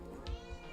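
A house cat gives a short, faint meow, quiet and close in a calm indoor room, with no talk over it.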